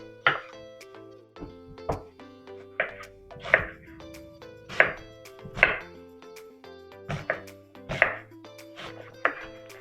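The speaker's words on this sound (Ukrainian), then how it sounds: "Цибульку я поріжу на кусочки і так само поріжу на кусочки капусту." A knife chops onion and cabbage steadily on a board, about a dozen distinct strokes at an unhurried pace, close and clear with a faint tonal hum behind.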